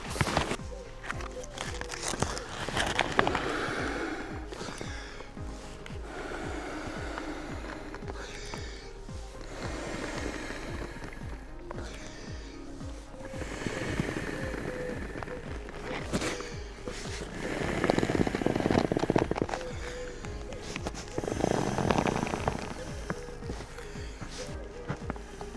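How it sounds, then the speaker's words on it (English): Bluefin kayak seat air bladder being inflated by mouth, repeated puffing breaths and soft blowing with crinkling of the bladder material, close up, in uneven bursts over about twenty-five seconds. "So let's start off. Let's inflate the bladder."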